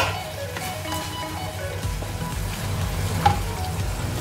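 Red or green chili frying in sambal in a pan sizzles steadily and loudly with continuous bubbling crackle, plus a brief clink near the end.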